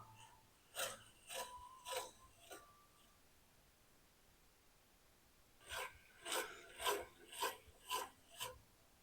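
Rhythmic rasping strokes of a hand file on the metal ring of a 1945 International K3 truck wheel, a short burst of four or five strokes, a pause, then six or seven more, faint and close.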